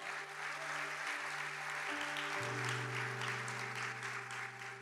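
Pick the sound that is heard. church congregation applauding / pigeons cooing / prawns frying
church congregation applauding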